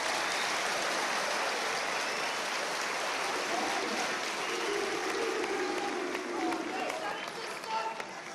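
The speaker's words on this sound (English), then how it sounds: "please give Scott a round of applause" Boxing fans at a media tour event applaud Scott Quigg, a dense wash of crowd clapping with some cheering and voices mixed in, steady throughout and swelling slightly near the end.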